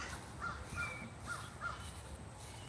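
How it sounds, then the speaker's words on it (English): Several faint crow caws come from a distance in a loose series over a quiet outdoor background hiss. "You hear that crow this morning?"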